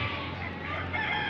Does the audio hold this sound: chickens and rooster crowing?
yes